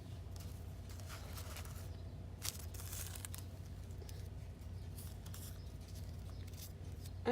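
Tissue paper is torn by hand for a paper craft, with soft crinkles and a few sharper tearing rips over a quiet background.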